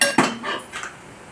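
Crushed peanuts added to sabudana khichdi in a pan, with a couple of metallic clinks and scrapes of a utensil against the pan, close and fairly loud, fading out with no talk.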